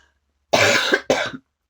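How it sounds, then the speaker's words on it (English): Two harsh, dry coughs close to the microphone, the first longer and the second shorter, with silence before and after. "it is a tickly cough, and it keeps making you cough here"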